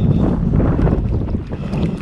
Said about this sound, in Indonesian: Angin sudah berhembus besar.